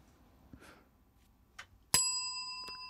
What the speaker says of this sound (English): I'm breaking that bell.